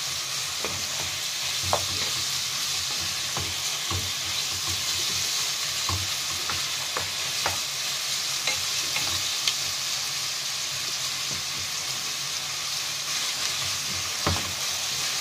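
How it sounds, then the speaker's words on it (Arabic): Onion sautés in butter in a pan with a continuous close sizzle, broken by irregular stirring scrapes and small pops over the whole stretch. "هنشوح البصل بالطريقه دي في الزبده بتاعتنا"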